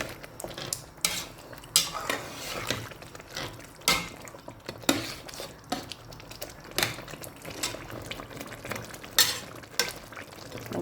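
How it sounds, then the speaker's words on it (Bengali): Mung dal is stirred into meat cooking in a pot, with a low sizzle underneath and repeated clanks and scrapes of a metal spoon against the pot in an uneven rhythm. "মুগ ডালগুলো এবার ভালো করে মিশিয়ে নিব"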